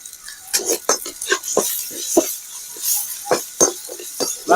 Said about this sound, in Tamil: இந்த தக்காளிலாம் வதங்கிட்டு இருக்கு